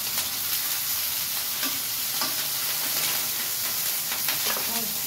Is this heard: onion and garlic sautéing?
yes